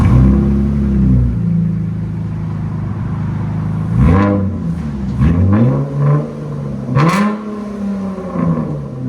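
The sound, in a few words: 2019 Dodge Charger 3.6L V6 exhaust revving with Dynomax Race Bullets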